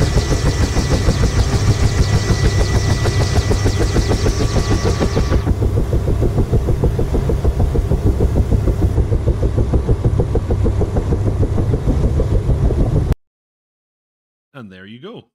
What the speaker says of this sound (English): That was the AH1G mod doing their engine startup sound